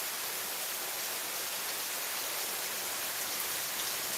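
Steady rain falling outdoors, a dense, even hiss of drops on surfaces that holds unbroken and close throughout, with no voices.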